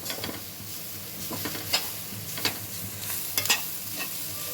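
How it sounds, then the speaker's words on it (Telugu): Grated carrots fry in a hot pan for carrot rice, a steady close sizzle with occasional scraping clicks of a spoon stirring through them, no voices. "పచ్చివాసన వరకు వేయించుకోవాలి క్యారెట్"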